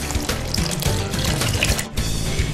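Chicken stock poured into a pot of lobster bisque, a continuous gurgling, splashing liquid stream close by with a brief dip near the end.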